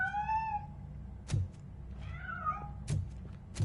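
Cat meowing in the Robocop Rogue City game: a drawn-out meow at the start and a second, wavering meow midway, over a low ambient hum with a few dull thuds between them.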